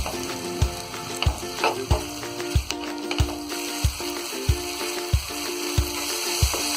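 Chilli chicken ingredients with spring onion stir-fried in a pan, a loud continuous sizzle with regular rhythmic spatula knocks against the pan, close and without talk.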